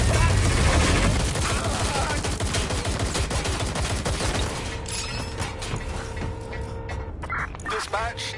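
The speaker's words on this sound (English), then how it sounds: "Suspect shooting!" Dense, loud gunfire in the video game Watch Dogs: Legion, rapid continuous bursts filling the first half, then thinning into scattered shots among other game sounds and tones.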